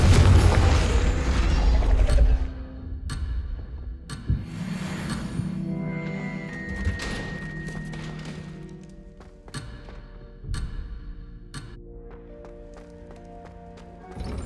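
Confringo fire spell blasts from Hogwarts Legacy land as a series of sharp booming impacts spaced a second or two apart, with metallic mechanical clanks and ringing tones between them and a heavy rumble at the start.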